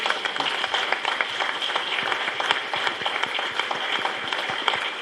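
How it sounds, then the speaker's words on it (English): A small audience at a candidate forum claps for David O'Brien, with scattered individual claps heard fairly close in a steady, moderate round. "He needs a round of applause."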